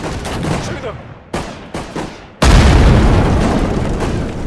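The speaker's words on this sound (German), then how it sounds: "Schüsse." Battlefield gunfire in the World War II strategy game Sudden Strike 4 at Dunkirk: bursts of shots and booming impacts, then a loud sustained roar of fire and explosions.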